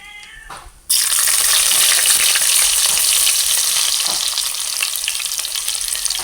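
Small onions sliced into rounds drop into hot oil with already-popped mustard seeds, setting off a sudden loud sizzle that keeps hissing steadily, with faint stirring clicks.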